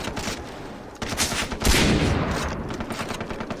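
Rapid gunfire in the Far Cry 3 video game during a co-op mission, dense bursts of shots over about four seconds that swell into a louder, heavier volley midway.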